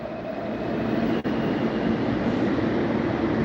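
A New York City subway train rumbles with a steady, loud roar of wheels and motors, broken only by a brief dip near the middle, with no voices over it.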